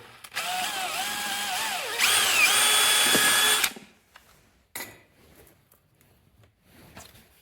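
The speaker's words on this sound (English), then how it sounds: "drill a pilot hole with a 3mm bit." A power drill with a 3mm bit runs up to speed drilling a pilot hole, its pitch wavering as it bites, then pushes harder and stops; faint clatter follows.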